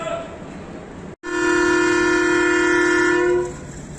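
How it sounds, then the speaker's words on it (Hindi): Long, steady whistle of the Hazara Express, a Pakistan Railways train about to leave Rawalpindi, sounding close and loud for about two seconds after a short blast and brief gap. "ये था विसल PH-28306 वेल डाउन हज़ारा एक्सप्रेस का, रावलपिंडी से जाने के लिए तैयार।"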